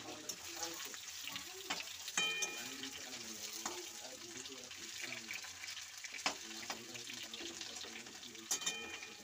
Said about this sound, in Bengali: আলুটাকে দেখে নেবো, দেখে দেখে ভালো করে ভেজে নেবো।